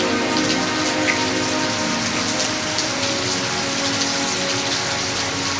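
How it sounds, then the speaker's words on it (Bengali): Heavy rain in Malaysia pouring down onto surfaces, a dense, constant roar of drops that stays loud and even from start to end, with no voices. "দেখো আজকে মালয়েশিয়াতে কি বৃষ্টি হচ্ছে"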